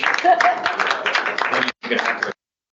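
Applause at an association's annual general meeting breaks out for a newly elected president, a dense continuous patter of many hands clapping that briefly drops out near the end and then resumes before stopping.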